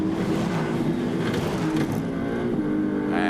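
Onboard a Ferrari Challenge race car on a 4.1 km circuit, the engine drones loud and close, its pitch shifting as the car downshifts into second gear for a corner, with no voices.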